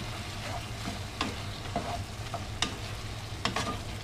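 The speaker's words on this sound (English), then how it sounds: "And then I'm gonna drop my beef in. mix that up." Beef stir-fried with tomatoes in a pan for a Cantonese home-style dish: a low, steady sizzle broken by several sharp utensil scrapes and taps as the mixture is tossed, no talking.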